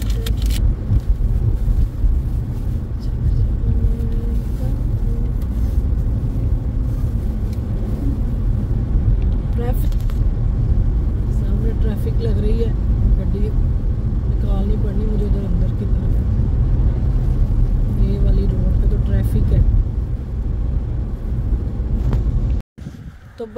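Busy road traffic with cars and a bus going by, a loud continuous engine rumble and wind buffeting on the microphone that hold steady, then cut off abruptly near the end.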